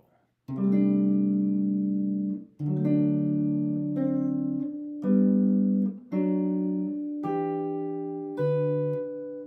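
Solo guitar plays a Christmas melody line alone, a series of clear plucked notes and chords in steady phrases that ring and decay between attacks, close and moderately loud.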